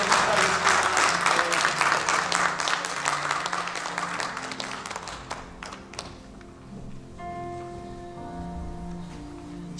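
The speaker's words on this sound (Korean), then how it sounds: "여러분 큰 박수로 내 축복해 주시면 감사하겠습니다" Applause from a church congregation at a deacon and kwonsa ordination and installation service in New Jersey, dense at first and then thinning, with organ or keyboard tones sustaining beneath as the clapping fades.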